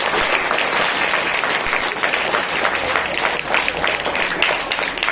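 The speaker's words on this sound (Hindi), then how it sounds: "एक बार ज्योति के लिए तालियां दो" Classroom audience claps for a student named Jyoti, a sustained, even roar of many hands at fairly loud level, with a few voices buried in it.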